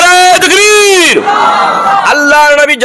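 A religious gathering's crowd answers a preacher's takbir call with loud, drawn-out chanting, the voices rising and falling in two long waves, close and forceful.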